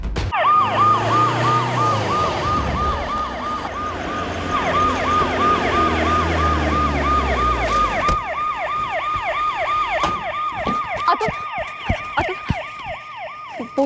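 An ambulance siren wailing loudly and close, a fast repeating up-and-down yelp cycling steadily throughout, with low vehicle rumble underneath at first and a few sharp clicks later.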